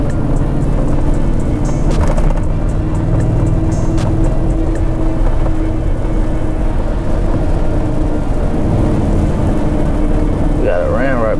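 Rain heard from inside a lifted, tuned Ford F150 5.0 driving in traffic, a steady wash of road and rain noise over a loud, constant engine and tire rumble.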